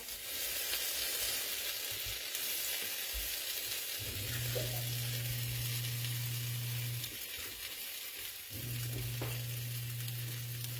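Grilled three-cheese sandwiches sizzle in a pan, a soft steady crackle with a low hum running underneath that cuts out briefly and resumes.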